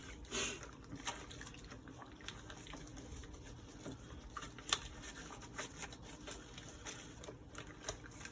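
A respirator shell and harness being pushed around and rinsed in water, giving faint, scattered splashes and drips over a low background.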